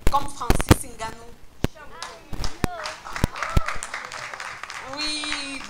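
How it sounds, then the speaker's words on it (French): Scattered clapping from a comedy show audience, with sharp irregular claps and bursts rising and falling amid people talking and voices throughout, not a sustained ovation. "beaucoup applaudissent"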